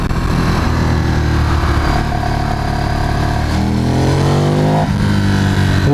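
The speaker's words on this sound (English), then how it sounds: "I don't know if the mic is picking up the sound of the bike as well as I'm hearing it" A Ducati Streetfighter track bike's engine roars loud and close, a steady throaty drone that climbs in pitch as it revs, then drops briefly and rises again near the end.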